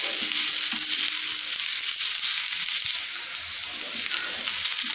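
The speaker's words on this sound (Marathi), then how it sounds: "लसूण घालूनही मी छान परतून घेत आहे।" Garlic and onion frying in a pan, a steady dense sizzle held at an even level throughout, close and fairly loud, with no one talking.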